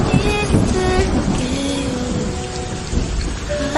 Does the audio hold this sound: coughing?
no